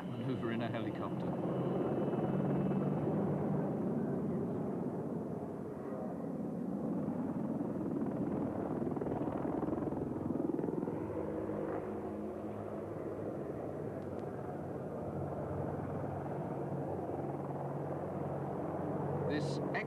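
An Apache attack helicopter's steady rotor and engine roar fills the air continuously during an air show display at Farnborough International 1988, with someone talking over it throughout.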